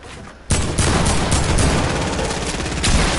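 Rapid gunfire from a video game shootout, sharp repeated shots starting abruptly after a brief quiet moment and continuing as a dense, loud barrage with several stronger cracks.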